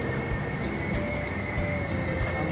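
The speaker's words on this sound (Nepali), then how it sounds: "फाइनल्ली हाम्रो पनि ट्रेन आइसक्यो, देख्न सक्नुहुन्छ" A train pulls into a station on the Oradea to Bucharest route, making a continuous low rumble and steady mechanical hum at close range, with no talk.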